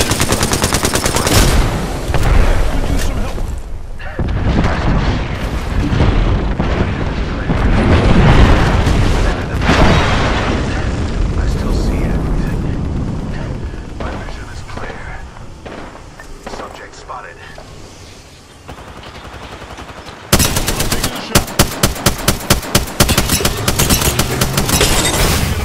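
Gunfire fills a video game shooter match: loud, dense bursts of automatic fire and booming impacts over about twenty seconds, ending in a sharp rapid-fire stutter, with game voice callouts mixed in.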